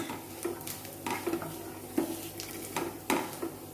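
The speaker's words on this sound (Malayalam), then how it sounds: "1ാം പാൽ ഒഴിച്ചൊന്ന് ഇളക്കിക്കൊണ്ടിരിക്കണം." Milk is stirred into green gram payasam in a pan, with a spoon scraping and clinking against the metal at irregular intervals over a soft background hiss.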